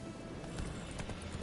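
Roach the horse trotting in The Witcher video game, a brief burst of hoof clip-clops over a dense, loud game soundscape.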